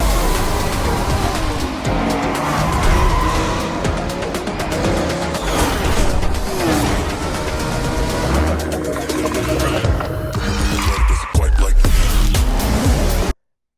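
Race cars in a Forza racing game trailer for a Japan event roar continuously and loudly, with engine surges and brief tire squeals layered over a dense, busy mix throughout.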